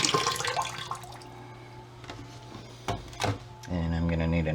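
Water poured into a basement sump pit during a sump pump replacement: a splashing gush up front, then softer trickling with a few sharp knocks, and a louder burst of running water near the end.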